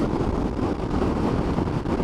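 Strong wind buffets the microphone as a Suzuki LS650 Savage motorcycle rides beside a track after leaving the highway, making a loud, steady broadband roar with no voices.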